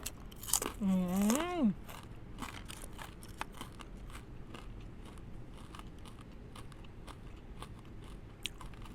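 Crispy fried fish eaten with spicy papaya salad brings close, repeated crunching and crackling bites, with a short burst of voice early on before the chewing continues alone.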